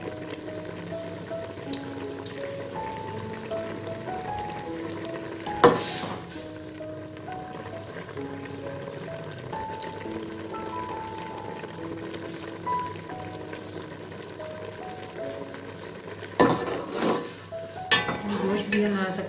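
Beef karahi cooking in a pan while tomato skins are picked out, with a soft continuous sizzle, occasional clinks of utensil against metal and a louder clatter near the end.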